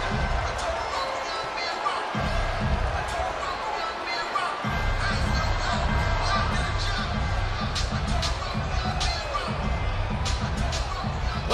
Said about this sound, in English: Well, the crowd is loving it.